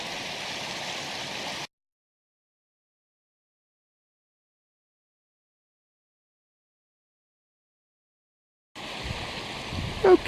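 Steady rushing flow of Naked Creek in Shenandoah National Park, broadband and constant, with a long stretch of silence in the middle where the sound cuts out.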